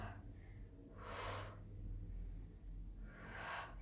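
Two forceful exhalations, a little over two seconds apart, come from someone doing an arm-strengthening exercise, close and breathy, with a quiet low hum between them.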